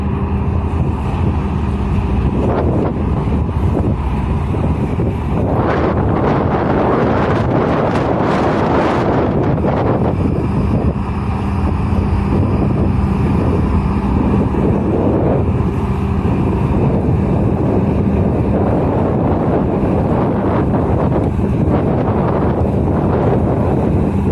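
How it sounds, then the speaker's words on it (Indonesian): Strong wind buffets the microphone at the Bakauheni ferry port, a loud continuous roar with gusting surges throughout and faint vessel and wave noise underneath. "Sedikit angin kencang ya teman-teman."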